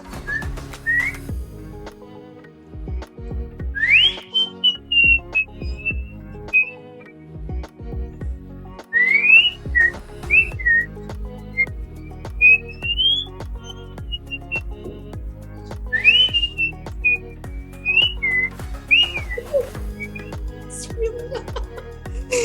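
A person whistles in high, wavering tones over a steady background hum, making irregular bursts of short sliding notes with pauses between phrases, close and fairly loud.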